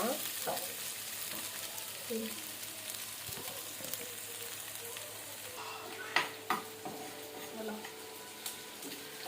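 Crushed ginger and garlic frying in hot oil, a continuous soft crackling sizzle with occasional louder spits and pops near the end.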